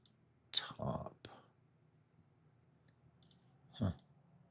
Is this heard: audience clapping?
no